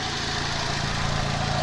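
A Fiat Strada engine running after a cylinder head repair, a steady close idle hum with a faint even ticking pulse and no voices.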